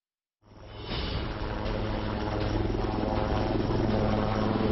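A HAL Light Utility Helicopter flies at high altitude between mountain landing grounds, its rotor and turbine drone starting abruptly and holding a loud, steady, continuous roar throughout.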